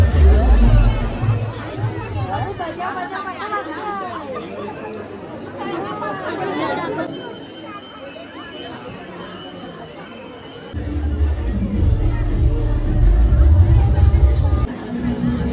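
A crowd waits in line for darshan at the Kelambadevi temple on the first day of Navratri, with a steady babble of many voices close around and louder chatter swelling near the end.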